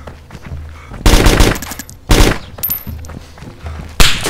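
Three loud Mosin rifle shots crack out at irregular intervals in DayZ, each blast followed by a short echoing tail over quiet game ambience.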